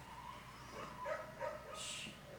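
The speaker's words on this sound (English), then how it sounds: "All that barking. That's my neighbors up the road." Several dogs bark and yip from a distance, a few scattered barks rising over a quiet background hum.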